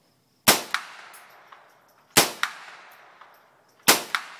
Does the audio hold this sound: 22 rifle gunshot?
yes